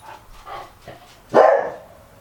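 A Corgi barks once, loud and close, a single sharp woof after a few quieter soft sounds.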